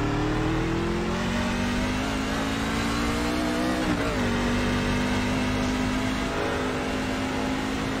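A race car engine in the iRacing sim drones steadily throughout with a sustained revving tone, its pitch briefly dipping and rising again midway as if shifting, with no talking.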